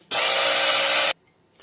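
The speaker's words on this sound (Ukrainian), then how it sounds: "Я, мабуть, щоб швидше було, подрібню блендером" A blender chopping zucchini and onion whirs loudly for about a second in one short burst, then stops abruptly into near silence.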